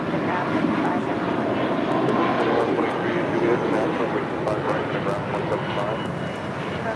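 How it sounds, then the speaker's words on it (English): A Volaris Airbus A320 airliner takes off at LAX with a loud, continuous engine roar, and a voice talks over it. "That was Vladis 923 taking off to Zacatecas on an A320"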